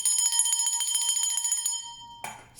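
A small bright metal bell is rung in a rapid, steady series of rings. The ringing stops abruptly, followed by a brief rustling noise.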